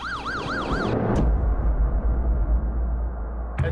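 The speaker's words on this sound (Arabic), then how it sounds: "أقول لك وداحتك صوت الشرطة" A police siren wails up and down for about a second, then cuts off, leaving a low rumbling engine and traffic noise.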